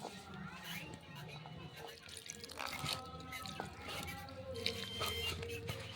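Wet squelching and slapping of a hand working kulekhara leaf batter with water, spices, onion and chilli, soft and close, continuous irregular squishes.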